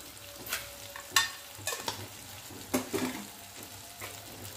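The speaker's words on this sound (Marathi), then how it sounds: "मिक्स करून घेऊया।" Spoon stirring garlic chutney with roasted peanut powder and a pinch of sugar in a pan over low heat, giving soft scattered scrapes and a few sharper taps against a faint sizzle, no talking.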